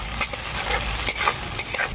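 Mustard paste and turmeric fry with onions in a pan for a bhindi dish, giving a steady close sizzle broken by the scrape of a spoon stirring.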